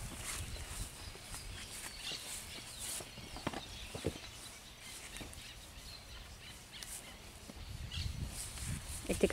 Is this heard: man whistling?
no